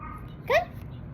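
A dog gives a single short yip-like bark amid a quiet background, brief and moderately close, with no talk over it.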